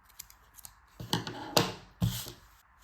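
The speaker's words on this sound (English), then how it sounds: "we can just cut the excess yarn" Scissors snip through excess yarn on a crocheted ear warmer headband, a few close, crisp cuts in quick succession with light handling noise between them.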